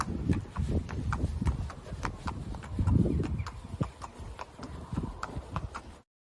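Horse hooves clip-clopping at a steady walk, close by and clear, with a low background rumble; a horse being shown for its walk and action, likely a bloodstock sale prospect.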